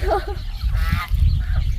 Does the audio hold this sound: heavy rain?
no